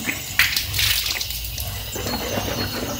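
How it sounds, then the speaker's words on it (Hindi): Water running and splashing close by as the mouth is rinsed during wudu, a bright gushing burst from a tap with uneven sloshes and no talking. "अब मैं ये 3 बार कुल्ली कर रहा हूँ।"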